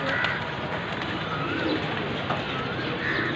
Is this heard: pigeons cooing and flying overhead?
yes